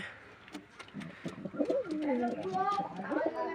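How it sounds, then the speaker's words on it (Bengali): Rock pigeons coo repeatedly in low, rolling, throaty phrases, close by and continuous, with some background noise. "দেখুন গোলা পায়রা ডাকাডাই করছে"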